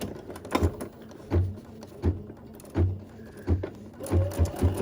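An embroidery machine stitches a cork needle organizer in the hoop, producing rhythmic bursts of mechanical stitching thumps separated by brief pauses, close and moderately loud, with no talk.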